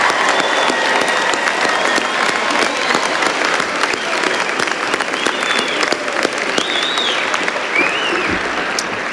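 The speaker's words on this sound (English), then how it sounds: "Applaud everyone." Loud, dense applause fills a law school graduation hall, continuous and unbroken, with faint voices mixed into the crowd.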